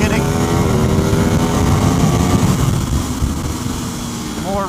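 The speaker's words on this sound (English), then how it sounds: "And you get this sound! Oh man, the V4 just sounds so amazing." An Aprilia RSV4 V4 motorcycle engine roars steadily and close on a racetrack, loud and sustained, with the pitch dipping slightly toward the end.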